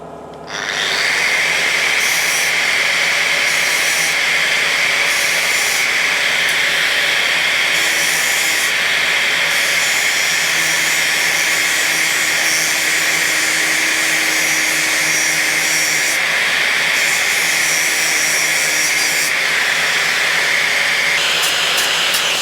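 An angle grinder runs loud and steady for the whole stretch on a bobber motorcycle build, its high whine holding continuously with small shifts in pitch as it bites into the metal, and nobody speaks.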